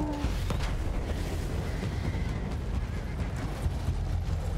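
A horse in the video game Battlefield 1 moves through a noisy battlefield; hoof thuds and snorting sit inside a steady, heavy rumble of combat ambience.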